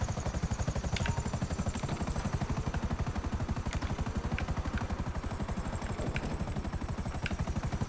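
Rotor blades of a stealth Akula gunship helicopter in Grand Theft Auto thump in a fast, steady, loud beat, with a few faint sharp clicks over it and no talking.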